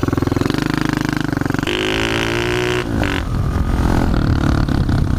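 A pit bike engine revving hard while riding on slippery wet ground, a loud, close, buzzing motor that climbs and shifts pitch through changing throttle, heard alone.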